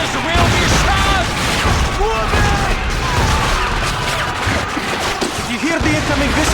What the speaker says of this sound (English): If you hear the incoming whistle of the artillery, the explosion will not be far off.